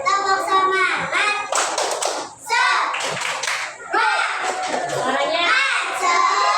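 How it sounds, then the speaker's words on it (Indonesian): Children in a third-grade classroom perform a rhythmic clapping chant, sharp patterned hand claps alternating with loud chanted voices, close and energetic, with a brief pause midway. "Tepuk semangat."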